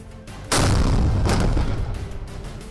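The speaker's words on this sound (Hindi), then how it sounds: "एक एक कर तोप से तीन गोले हवा में छूटे और भयानक धमाके के साथ टारगेट" A Sarang artillery gun firing shells, a loud sudden blast with a deep rumbling tail and a second heavy report a moment later, booming across open ground with no talking.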